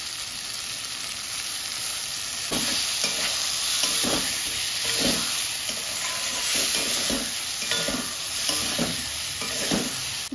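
Spiced prawn paste with pointed gourd sizzles steadily in a pan, with a constant frying hiss and repeated scraping knocks from stirring at a close, even level and no talk.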